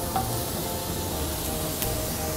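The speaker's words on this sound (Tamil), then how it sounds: "வெங்காயம் போட்டு லைட்டாக வதக்கிங்க." Onions sautéing lightly in hot oil in a Tamil home kitchen, a steady close crackling sizzle with faint stirring scrapes, no voices over it.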